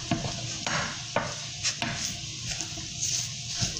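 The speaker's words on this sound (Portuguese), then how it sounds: "Então ele tá fritando desse lado e você vai pressionando com a colher" Food frying in a pan as a spoon presses and stirs the pieces, a steady close sizzle broken by scraping knocks and taps against the pan.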